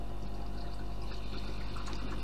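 A steady trickle of water refilling an ice machine reservoir with a low mechanical pump hum underneath, continuous and fairly quiet, with no talking.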